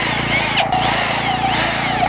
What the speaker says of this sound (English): we just use a corded drill here